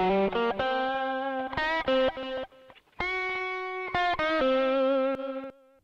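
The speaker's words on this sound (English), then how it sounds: "So here's 80s guitar solo." Distorted electric guitar plays a soloing phrase of held, sustained notes with quick bends and runs, sent through a stereo delay set to an 80s solo preset that adds a chorus-like sheen, loud and alone with a brief pause midway.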